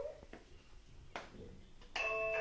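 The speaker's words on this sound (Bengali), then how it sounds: "দাও কলিং বেল দাও" A home doorbell rings near the end with a sustained electronic ding tone after a few knocks and thumps, indoors and fairly close.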